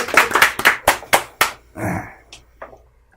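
Audience at a Korean reading session clapping: a handful of sharp, separate claps at first, then a brief smattering and a few scattered final claps fading out, close and fairly loud.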